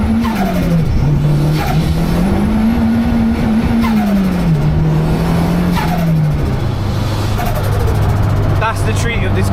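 A 3.4-litre stroker BMW M140i with a big turbo revs hard and loud, engine pitch sweeping up and down while the turbo gives repeated sharp sneezing blow-off hisses; someone talks over it throughout.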